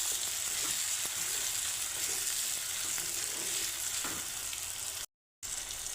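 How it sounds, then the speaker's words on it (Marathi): Finely chopped tomato sautéed in oil for a drumstick curry, a steady close hissing sizzle with faint stirring, cut by a brief dropout near the end. "ते आपण छान परतून घेऊ"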